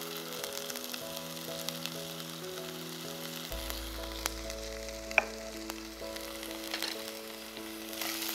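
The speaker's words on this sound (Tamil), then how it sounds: "இதை கொஞ்சம் நல்லா வதக்கிக்கோங்க." Onion, ginger and garlic sautéing in a pan, giving a quiet, steady sizzle with faint crackles and a low hum behind it.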